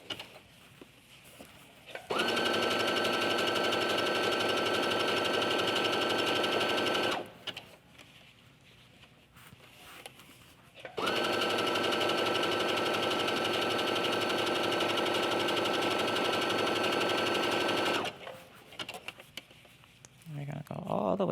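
A sewing machine stitches knit fabric in two steady runs of about five and seven seconds, a loud, even mechanical whir with quiet pauses between, where a voice speaks softly.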